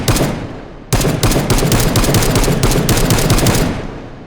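SCAR rifle fired in semi-auto in the H3VR virtual reality shooter, a loud close string of sharp shots at a fast steady rhythm, one brief gap early, then tapering off alone.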